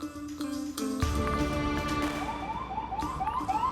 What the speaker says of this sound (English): There's lots of police cars out here